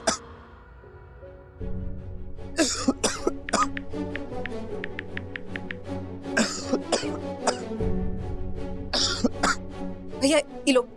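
A man coughs repeatedly in harsh, clustered bursts with throat clearing between them, close and fairly loud, while other voices talk softly in the background.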